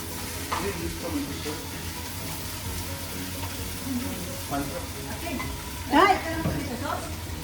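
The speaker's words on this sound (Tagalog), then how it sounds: "Sizzles" Yakisoba frying on a griddle gives a steady sizzle under scraping and stirring strokes, with a brief louder clatter near the end. People talk over the cooking.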